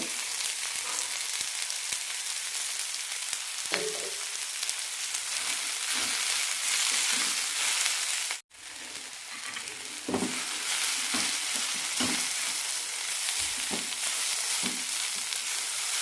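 Cucumber and coconut sauté in a pan on a low flame for cucumber chutney, giving a steady close sizzle broken by scraping stirs and a brief dropout midway.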